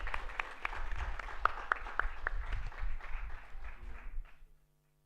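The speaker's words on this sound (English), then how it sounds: "please let's have a loud round of applause" Applause from an audience at a hackathon closing ceremony, a dense steady patter of many hands with a few sharper claps standing out, fading away just before the end.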